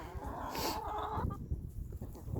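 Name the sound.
chickens and roosters clucking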